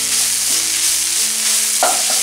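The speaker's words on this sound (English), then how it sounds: "Keep on stirring until it gets mixed up with the spice powder. Cook in medium flame." Soya chunks fry with spice powder in a pan, stirred on a medium flame: a loud, continuous sizzle with scraping stirs and a brief clatter near the end.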